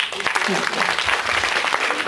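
A crowd claps loudly and continuously for a couple of seconds at an English debate competition, dense and close.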